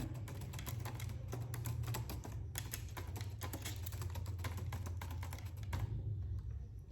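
Rapid clicking of a computer keyboard, close and steady, with bursts of keystrokes and brief pauses as a name is entered into a document.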